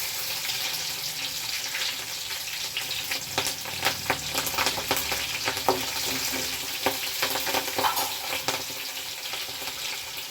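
Green chillies fry in a pan for a vermicelli chow chow bath: a steady, dense sizzle runs throughout, with occasional sharper crackles and light clinks of stirring, and no talk.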